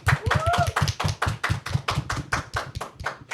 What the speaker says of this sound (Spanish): Vamos a terminar esta temática, esta pequeña introducción, con un fuerte aplauso.